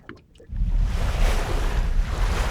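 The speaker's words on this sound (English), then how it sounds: "As I rhythmically move with the waves" Waves wash steadily around a swimmer floating in open water. After a brief quiet start, a loud, continuous rushing roar takes over, thick with wind buffeting the microphone.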